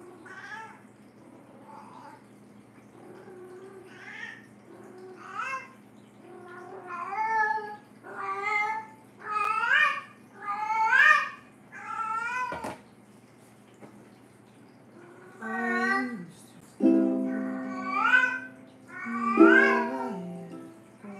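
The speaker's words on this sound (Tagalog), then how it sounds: "the cats are communicating through meows" Several cats meow in a loose series of short, tonal calls, some drawn out and wavering, rising in a burst near the end, with a steady low background hum and no talk.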